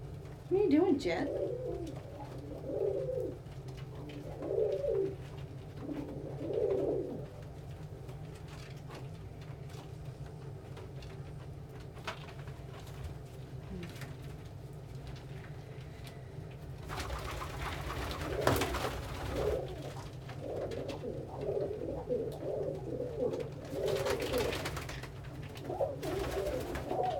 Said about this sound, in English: here's some footage of birds playing on a chair.